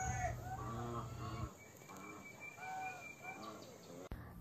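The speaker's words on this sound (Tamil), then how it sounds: "இந்த கோழியோட பேர் சி பிரைட் சீப்ரேட்" Sebright chickens, a small ornamental breed, cluck in short rising bursts of several calls, fairly close and quiet, with a faint high whine in the background.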